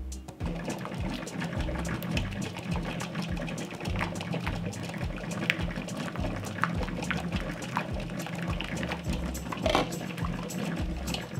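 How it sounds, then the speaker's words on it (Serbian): Water bubbling and churning steadily inside a covered pot of glass jars on a stove, a continuous low rumble with a quick pulsing rattle, close and unbroken, no voices. "poklopit ću šerpu i stavljam na šporet da se kuva"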